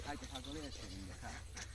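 A goat bleats repeatedly in short wavering cries, close by, over low background noise.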